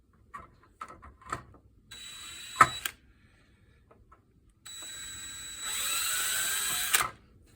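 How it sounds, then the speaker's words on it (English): A power drill whirs in two short bursts, the second longer and rising in pitch, with light clicks and handling noises between them. "Careful, don't drill too far."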